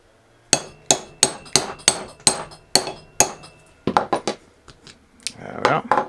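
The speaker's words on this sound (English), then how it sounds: "You have to give it quite a hit with a hammer." A hammer strikes a pure copper saddler's rivet about ten times in a steady rhythm, each blow sharp, metallic and ringing, followed by lighter, quicker taps and small handling noises.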